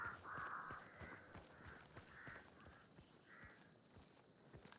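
Birds in a video game give faint, raspy crow-like caws, several short calls spaced unevenly over a soft background of light footstep-like thuds.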